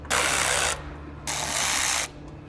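A ratchet driving out T15 fender flare bolts on a 2014-2018 GMC Sierra 1500 pickup, two close bursts of fast clicking separated by a short pause, loud and without voices.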